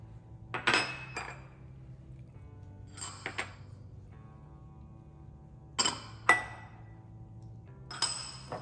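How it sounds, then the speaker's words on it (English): Marinade ingredients for beef and broccoli are tipped into a bowl of beef. Several bright clinks and clatters of containers and utensils against the bowl come in short bursts, separated by quiet gaps. "To marinate the beef, we're going to dump all the ingredients in there."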